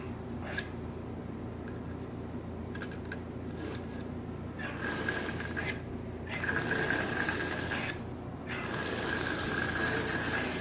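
Marx 666 toy train locomotive running on track, giving a steady whirring, ratcheting mechanical rattle with brief clicks, close by and fairly quiet, with no talking.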